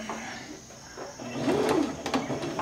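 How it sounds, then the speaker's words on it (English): Sewing machine backstitching fabric for a hospital-grade protective mask, a soft mechanical whirr that rises near the middle and runs in short bursts over a low room hum. "And I start sewing. I'm backstitching."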